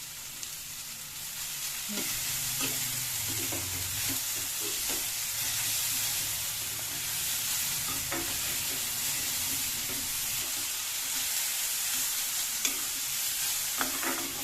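Vegetables including capsicum, cabbage, carrot and onion stir-frying for street-style veg chow mein, a steady loud sizzle with scattered clinks and scrapes of the spatula against the pan throughout, no voices.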